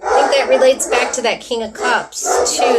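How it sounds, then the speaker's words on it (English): Dogs bark and yip in short bursts close by, mixed in with continuous talking from a speaker. "I'm sorry about my dogs"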